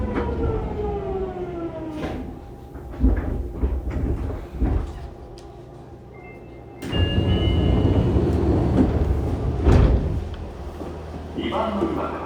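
A Fukuoka City Subway 2000 series train, set 23, with a late-type Hitachi GTO-VVVF drive and an abnormal noise, runs along the line, its rising and falling inverter whine over rumbling wheels, clunks and rail noise, with a quieter pause before pulling away again.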